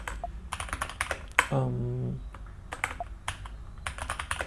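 Typing on a computer keyboard while entering a docker command, a run of close, crisp key clicks in bursts with short pauses, and a brief hum partway through.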